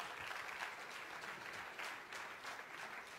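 An audience applauds steadily at a political speech in Mexico, a dense, even clapping that holds at a moderate level throughout with no voices above it.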